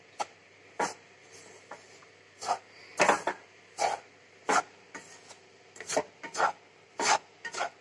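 Khoa roasts in a pan for sweet vadi, stirred with repeated scraping and rasping strokes in an uneven rhythm, fairly faint and close.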